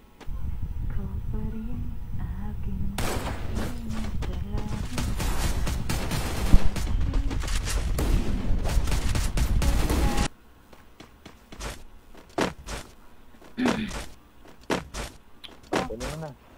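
Gunfire in a shooting video game: dense, sustained bursts of rapid shots fill the middle stretch, then sparser single shots and game effects follow, with a voice talking throughout.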